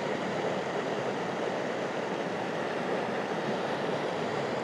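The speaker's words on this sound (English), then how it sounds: "So I've got water rushing over the rocks here." Water rushes over rocks in a steady broadband roar, loud and continuous with no breaks and nobody speaking.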